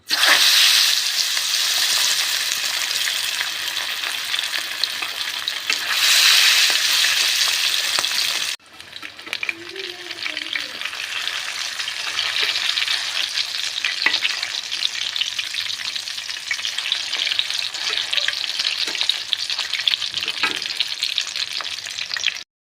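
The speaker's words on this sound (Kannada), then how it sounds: "ಇದನ್ನು ಆಯಿಲಲ್ಲೇ ಚೆನ್ನಾಗಿ ಈ ರೀತಿಯಾಗಿ ಫ್ರೈ ಮಾಡಬೇಕಾಗುತ್ತೆ" Chicken kebab pieces frying in oil for a dhaba-style dish, a loud steady sizzle that drops sharply partway through and then continues at a lower, crackling level, with no talk.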